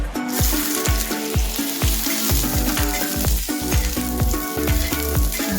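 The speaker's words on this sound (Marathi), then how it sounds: "आणि अद्रक लसूण त्यात घालून घ्यायचे" Ginger and garlic sizzling in a spoonful of hot oil on an iron griddle, a loud continuous frying crackle with rapid pops throughout.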